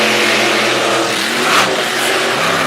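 Monster trucks roar off the start line at a Little Valley, New York event, their big engines revving hard together in a loud, continuous surge of near engine noise.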